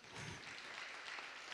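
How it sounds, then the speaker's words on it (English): A seated audience at a Baptist church in Croydon claps together in a short, steady round of applause, a soft, dense patter heard from a little distance. "and you can clap for yourselves, yeah."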